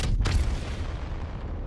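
An arc star grenade goes off in Apex Legends as a sharp electric burst followed by a booming, rumbling decay that lingers loudly through the rest of the moment.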